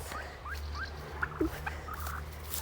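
Several faint turkey gobbles, short warbling calls at a distance over low background rumble, scattered across a few seconds.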